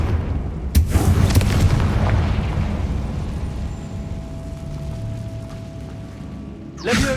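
A blasting-spell explosion in the Hogwarts Legacy video game: a sharp booming burst near the start, then a long rumbling decay with a faint tone, and another blast cut off at the end.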